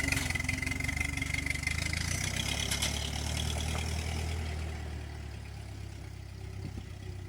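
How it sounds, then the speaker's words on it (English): An old tractor engine idles at low RPM with a steady, close mechanical rumble and slight burble, settling a little quieter toward the end. "the idle low RPM might have a burble, but it definitely runs good"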